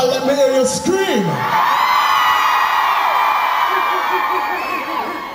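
At a reggae concert, a huge crowd erupts into loud, sustained screaming and cheering right after a voice on the mic, the roar holding steady and slowly fading toward the end.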